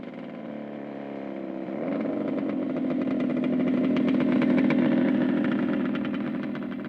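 A motorcycle rolls up and settles into a steady idle, its mid-pitched engine rumble swelling to a close, loud peak before easing slightly, with no talk over it.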